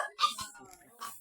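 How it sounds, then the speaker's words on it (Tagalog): Several dogs at a rural mountain home make short, faint yips and whimpers in a brief burst, close by and without talk over them. "daming aso"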